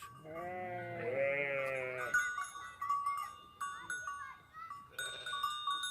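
Goats bleat loudly up close in a long wavering cry, followed by a cluster of shorter bleats and rattling, jostling noises as they fight.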